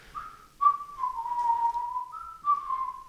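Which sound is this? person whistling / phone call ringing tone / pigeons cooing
person whistling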